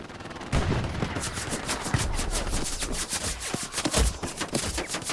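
Gunfire in the video game Hell Let Loose, a rapid, loud stream of close automatic shots with distinct individual cracks, running almost continuously after a brief quiet opening.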